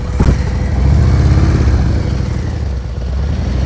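A motorcycle engine idles and strains at low speed during slow-speed riding practice, with the clutch slipping and the rear brake dragging so the engine shakes; a steady, loud, close rumble continues throughout.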